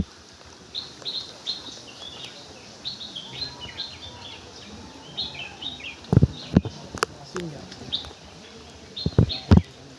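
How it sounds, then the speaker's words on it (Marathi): Birds chirp and sing around Rajgad fort, with repeated short, fairly distant calls throughout and a few sharp, close knocks or thumps in the later seconds. "मस्त असा बर्ड्सचा आवाज येतो आहे"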